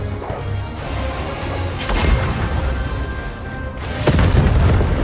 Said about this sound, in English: It is a massive explosion.